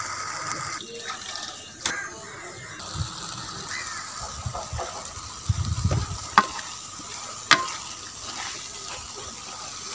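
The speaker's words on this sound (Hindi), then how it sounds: "इसको इस तरह आस्ता आस्ता हिलाते जाएंगे ताकि ये जल ना जाए" Spoon stirring chopped spinach in a cooking pot, soft scraping and stirring with faint sizzle and occasional sharp clinks of metal against the pot.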